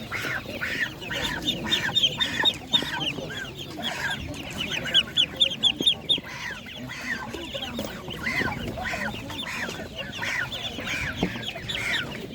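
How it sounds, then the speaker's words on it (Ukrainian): Chickens and other fowl at an animal market, with repeated close clucking and squawks, bursts of rapid cackling and occasional duck-like calls over a busy background. "Я в нас є багато різної птиці, є ще до того курчата, є індики"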